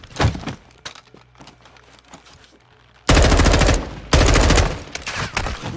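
Bursts of automatic gunfire in Call of Duty Modern Warfare 2, two long loud sustained volleys of rapid shots following a quieter stretch of scattered sounds.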